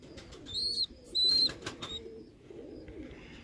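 Young Birmingham Roller pigeons in a small cage give a few thin, high squeaking calls over soft low cooing and faint rustling, close by.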